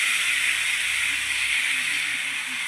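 Spices tipped into browned onions frying in hot oil produce a steady, close hiss and sizzle that holds evenly throughout.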